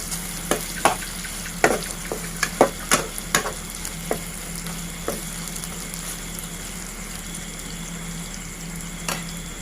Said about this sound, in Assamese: এয়া মাংস ধুনীয়াকৈ ভাজি লাগি আছে।